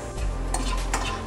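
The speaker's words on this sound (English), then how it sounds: "we are stirring it back again" A spoon stirring seasoned American corn with salt and pepper in a pan, soft scraping sweeps with two brighter clinks against the cookware over a faint background hum.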